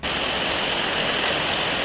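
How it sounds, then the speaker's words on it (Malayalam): Heavy, steady rain pours down in a continuous dense hiss with no breaks, loud and close throughout. "ഇങ്ങനെ ഇങ്ങനെ മഴ പെയ്തിട്ട് ഇങ്ങനെ"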